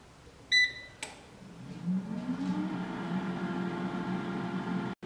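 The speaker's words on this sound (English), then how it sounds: "I'm going to preheat my air fryer at 200 degrees centigrade for about 10 minutes" A countertop air fryer is set to 200 degrees and starts preheating: a few electronic beeps and a click, then a steady fan whir that rises in pitch and settles into a constant hum.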